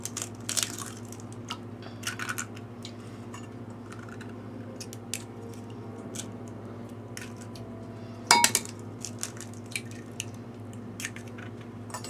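Eggs handled at a kitchen counter while making a jalapeno pie, with soft scattered taps and clicks of shells and one louder crunchy crack near the end over a low steady hum.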